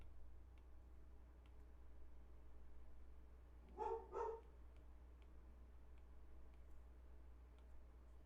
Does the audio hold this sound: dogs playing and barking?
yes